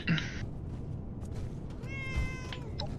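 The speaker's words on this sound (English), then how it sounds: "I hear a cat!" A cat in Fallout 76 lets out two short meows, the second more drawn out, over a steady low background hum from the game world, moderately close and with no talking.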